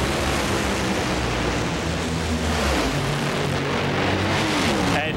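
Top Fuel dragsters racing at the 1998 NHRA Big Bud Shootout, a dense, continuous roar of nitro engines at full throttle, loud and unbroken throughout.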